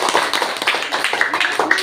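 A classroom group of students claps hands together in quick, uneven bursts of sharp slaps, close and loud, with voices mixed in among the clapping.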